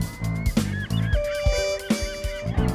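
Birds honk and call outdoors in Southern California, goose-like cries repeating in an irregular rhythm, fairly close and clear.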